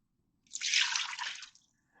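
Water, one cup of it, is poured into a Ninja Foodi pressure cooker pot in a kitchen while making Tex-Mex meatloaf, a short splashing pour of about one second, close and fairly soft, with no talking.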